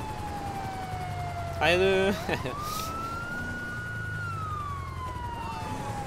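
A police car siren in the video game GTA 5 wails in long rising and falling sweeps, fairly close and steady, while someone briefly shouts over it partway through.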